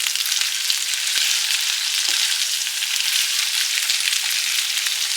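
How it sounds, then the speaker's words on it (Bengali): Potatoes with fenugreek frying in a pan, a dense continuous bright sizzle with a few faint clicks, close and steady with no talk. "কিন্তু একটু লাল লাল করে ভেজে নেবে।"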